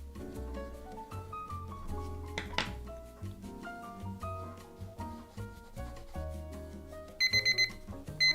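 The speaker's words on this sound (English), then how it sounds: "So you can be quiet, timer." A timer alarm goes off during a drawing session, a melodic electronic chime sequence playing on for several seconds at moderate volume, ending in a few quick bright beeps.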